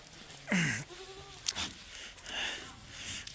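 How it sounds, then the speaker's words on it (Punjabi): Goats bleat on a small Punjabi goat farm of Beetal and Saidoke bloodline stock, with one loud near bleat followed by quieter calls and background farm noise. "ਬਹੁਤ ਵਧੀਆ ਬੱਕਰੇ ਵੀ ਨੇ ਤੇ"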